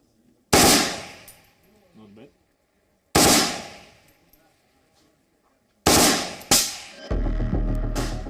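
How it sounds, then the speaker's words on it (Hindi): An AK-203 assault rifle fires in full auto in a loud, close series of bursts with sharp cracks and ringing echoes between them. A brief voice comes through in a gap, and rumbling noise follows the last burst. "ये एक बार फायर ट्रिगर दाबने के बाद ये लगातार फायर करेगी"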